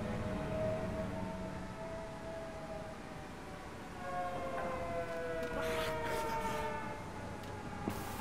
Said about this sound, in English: I heard the sirens going off in the little bass part